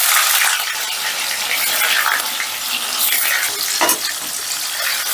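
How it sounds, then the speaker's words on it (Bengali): Paneer frying in mustard oil in a kadai, a loud dense hiss and spatter filling the whole stretch, close and continuous with a brief clatter near the end. "এবারে পনিরগুলো ভেজে নেব।"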